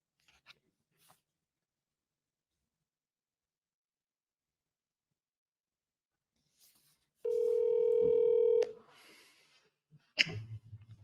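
A phone call placed from a second phone, with a steady ringback tone sounding for about a second and a half after a stretch of near silence, followed by faint clicks and handling noise.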